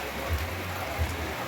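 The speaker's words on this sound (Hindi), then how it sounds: "हाँ हाँ, बारिश हो रही है" Heavy rain falls steadily outside a lodging room in Murree, a dense even hiss that stays constant and moderately loud throughout, with a low faint hum beneath it.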